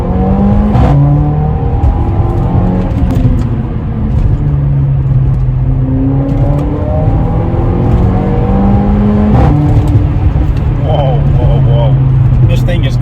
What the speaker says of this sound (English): I always forget how fast or loud this car is.